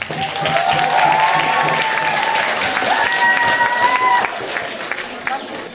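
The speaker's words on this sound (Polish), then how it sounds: "Wielkie brawa!" Audience applause with some cheering at the 2011 opening of the Baltic-Satelid theatre festival, a steady loud crowd wash with voices and whistles over it for several seconds.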